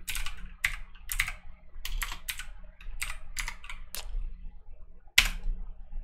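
Clicky keystrokes on a computer keyboard come in irregular bursts and single taps, close and fairly quiet, with short pauses between.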